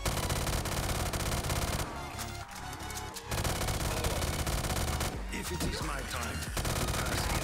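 A G36C rifle in a Call of Duty custom zombies map fires in long, dense automatic bursts, loud and close, with brief pauses where scattered impacts and game noise come through.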